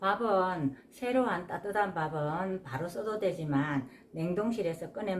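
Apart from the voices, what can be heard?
No everyday noise stands out behind the speech.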